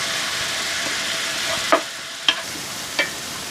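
Chopped vegetables for a garden-vegetable bolognese sauce sizzling steadily in a pan, with a few sharp stirring scrapes of a utensil standing out over the continuous frying hiss.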